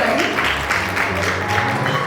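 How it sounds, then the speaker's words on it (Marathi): Sustained applause from an audience at a press event for a Marathi TV serial, steady dense clapping filling the whole moment with a murmuring crowd underneath. "जोरदार टाळ्या"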